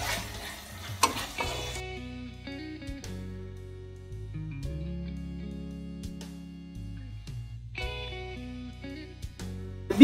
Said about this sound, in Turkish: Tekrar bir karıştıralım. Kıymamızı iyice kavuralım.